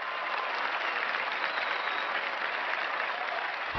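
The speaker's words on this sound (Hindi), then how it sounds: "जोरदार तालियों से स्वागत कीजिए" Sustained, steady applause from a TV studio audience welcoming a guest onto a comedy talk show, loud and even throughout with no voices over it.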